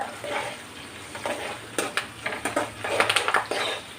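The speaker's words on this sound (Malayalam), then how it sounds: "ഇച്ചിരി കറിവേപ്പില ഇട്ടപ്പം എണ്ണയ്ക്കകത്ത് വീണപ്പം പടപടാന്ന് പൊട്ടുന്നുണ്ട്" Curry leaves drop into hot oil for homemade mango pickle, sending up a quick run of sharp crackles and pops over a soft background sizzle, close and busy in the second half.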